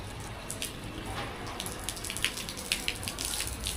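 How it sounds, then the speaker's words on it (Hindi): Low-pressure garden hose water sprayed onto dirty rooftop solar panels, a soft continuous hiss with scattered splashing patters, fairly quiet and without talk. "इस पर थोड़ा सा पानी मार ही देता हूँ।"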